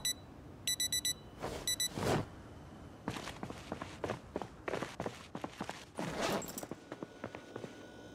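Alarm clock in the zombie survival game Project Zomboid beeping in a couple of quick bright bursts at the start, then giving way to a run of footsteps, thumps and shuffling movement sounds.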